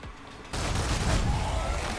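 Sustained burst of gunfire from shooting in the action game Stellar Blade, loud and continuous after a brief quieter lead-in, with dense overlapping shots.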